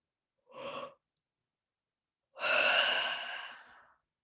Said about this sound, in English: take your deep, deep breaths